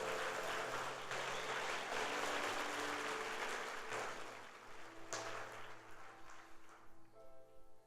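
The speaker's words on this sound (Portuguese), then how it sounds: "Pode aplaudir para Ele" A church congregation applauds during a Sunday service, dense sustained clapping that fills the room for several seconds before thinning out and fading toward the end.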